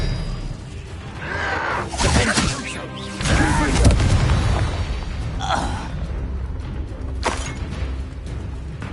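In the Hogwarts Legacy video game, the Incendio and Expelliarmus spells are cast as layered whooshes, booming impacts and crashing bursts, loud and dense over the game's ambient sound.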